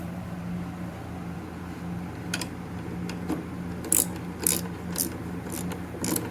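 Nuts being tightened by hand on an MRBF fuse holder with a ceramic body, heard as a quiet rasping background broken by short ratchet clicks that grow sharper and more frequent toward the end.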